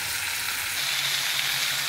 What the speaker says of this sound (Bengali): লবণ হলুদ দিয়ে পটলগুলো ভালো করে লাল লাল করে ভেজে নেব।